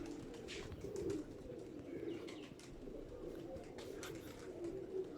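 Several female pigeons let out into the open air give low, soft cooing calls in repeated bursts, set against steady outdoor background noise at a moderate distance.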